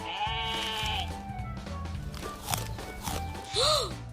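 Sheep bleating among farm toys in a playful farm scene, several wavering bleats over a busy background, the loudest and clearest one near the end.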